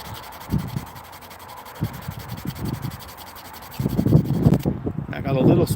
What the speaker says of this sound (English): I got some more sanding to do up on the top here.